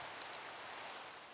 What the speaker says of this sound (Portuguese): Deixa eu ver aqui para poder tirar essa chuva